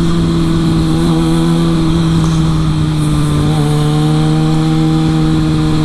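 A Kawasaki Ninja ZX6R motorcycle engine drones steadily on a test ride, a loud, sustained tone with a slight pitch shift partway through and wind noise over it, no voices.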